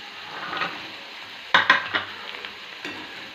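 Potatoes, capsicum and peas fry in a pan with a steady sizzle, broken by a few sharp clatters and scrapes of stirring; no one speaks.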